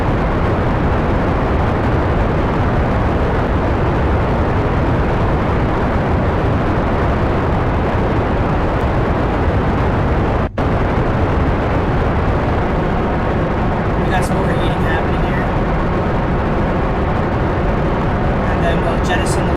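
A rocket lifting off in Kerbal Space Program, a steady, loud, roaring engine thrust that fills the whole stretch without letup, with one brief click partway through and faint electronic tones near the end.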